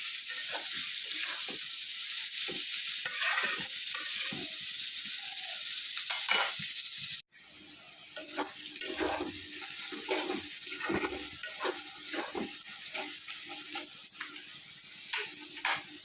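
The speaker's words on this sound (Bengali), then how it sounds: "পেঁয়াজ ভাজা হয়ে গেছে" Onions fry in a pan, giving a continuous sizzle with stirring and scraping sounds. A sharp cut-off in the middle is followed by quieter frying with intermittent clatter.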